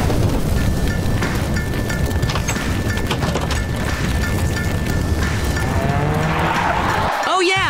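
A racing car in a Minecraft game roars at constant high volume with a steady engine drone and tire skidding throughout, ending in a swooping rise as the sound cuts off.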